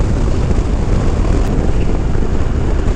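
Heavy wind roar buffets the microphone while riding a Dyna-style motorcycle into a stiff breeze at the Sturgis Rally, a loud, constant rushing blast that fills the whole clip with no talking.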